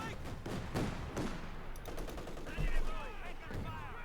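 Howitzer and gunfire in Company of Heroes 2, a steady stream of distant shots and blasts with one heavier thump midway, under background battle noise.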